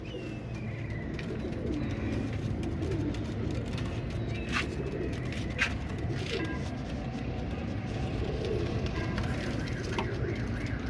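Show pigeons of the Imam Deen breed coo softly and repeatedly, low gurgling calls rising out of a busy background hum, with voices nearby.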